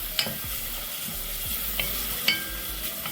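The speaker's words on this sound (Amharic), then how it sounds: "ይሄው አሁን ሽንኩርትና ዘይት እየጠበስኩ ነው ማለት ነው።" Onion frying in oil in a pot, with a soft continuous sizzle under several sharp stirring scrapes and knocks of a utensil against the pan, close and moderately quiet.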